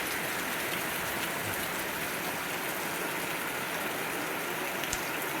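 Steady first monsoon rain pours down in a dense, even hiss over a Konkan village, with occasional heavier drops and no voices.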